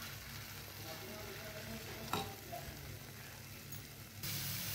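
Pithla, a thick gram-flour dish, is stirred in a hot pan, with a steady soft sizzle and a gentle frying hiss, brief scrapes and a single louder knock partway through.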